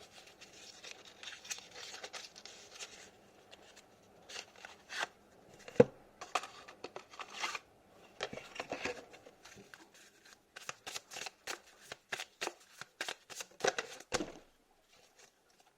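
Tarot cards shuffled by hand, a run of soft papery riffles and flicks with sharp card snaps scattered through, close and fairly quiet, no talking over it.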